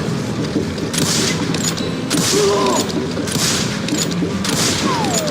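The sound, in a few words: gunshots in the Call of Juarez Gunslinger video game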